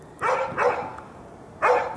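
A dog barks three times in quick bursts, fairly close and loud, with no talking over it.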